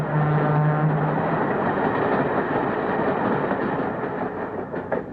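A diesel locomotive train running on rails, a loud continuous rumble with rhythmic wheel clatter close by, steady throughout with no talk.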